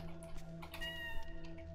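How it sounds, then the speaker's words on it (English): A cat in the video game Dark Devotion, inside a warm temple shelter, gives a clear drawn-out meow over a low humming game soundtrack. "Can I talk to the cat?"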